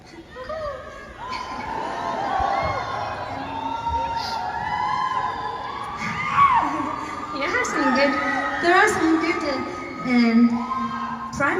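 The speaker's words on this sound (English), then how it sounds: "primal screams here in the crowd" A concert crowd at a show in September 2024 screams and cheers in loud, wavering bursts of high voices that swell and fade. Someone talks over the noise from the stage.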